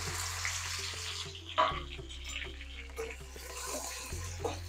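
Okra frying in hot oil in a pan on a high flame: a broad hiss and crackle with a few clattering stirs and knocks, fairly close, over a low steady hum.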